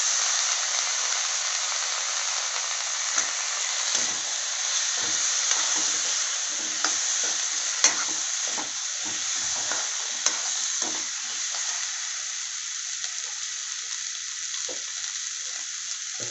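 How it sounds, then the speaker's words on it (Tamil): Drumsticks and brinjal with chilli powder sauté in a pan with a continuous sizzle, while a spoon stirs and scrapes in irregular nearby strokes. "எல்லாத்தையும் நல்லா வதக்கி விட்டுக்கோங்க."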